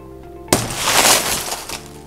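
Tempered glass bursts apart with a sudden sharp crack, followed by a spray of crunching, tinkling fragments that fade over about a second and a half.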